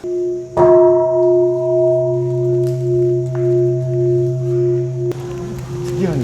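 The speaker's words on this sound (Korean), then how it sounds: "은은하게 종소리가 울려 퍼지고 있는데요." Bronze temple bell at a Vietnamese Buddhist temple in Dalat, one loud strike then a long, softly wavering hum that rings on for seconds before another knock near the end, with a brief spoken word.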